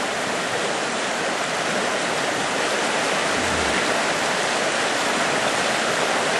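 Creek water rushes steadily through a drop riffle gold sluice, a loud, dense, continuous wash of flowing water close by with no voices.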